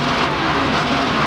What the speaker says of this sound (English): The engine is running fine, it just will not pull.